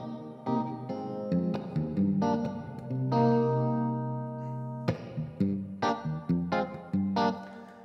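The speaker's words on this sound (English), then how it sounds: "here is our Lexicon reverb" Clean guitar amp channel played through a Lexicon reverb pedal placed in front of the amp, the amp's internal reverb switched off: chords and single notes ring out with a long, lush reverb tail filling gaps, played alone with no talking.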